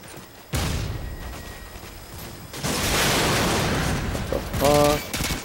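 Gunfire in Modern Warfare 2 team deathmatch, with two loud bursts of shots and a distant background rattle.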